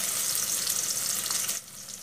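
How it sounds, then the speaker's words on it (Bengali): Chopped onion sizzles steadily in hot oil, a close, continuous frying hiss that drops slightly in level near the end, with no voices. "তেল গরম হয়ে আসার পরে আমি দিয়ে দিলাম পেঁয়াজ কুচি"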